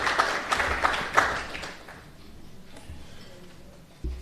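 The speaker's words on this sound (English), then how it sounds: "Give them a round of applause." A small crowd at a live event in a brewery claps, with a few sharp claps up front that fade into scattered, thinning applause and a low murmur of voices.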